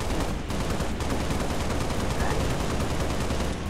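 Dense, continuous automatic gunfire from the video game Halo Reach, loud and unbroken for several seconds with no speech over it.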